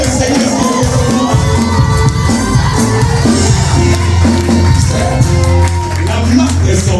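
A church congregation cheering and acclaiming during a sermon, a loud, sustained crowd roar of shouts and whoops with scattered voices.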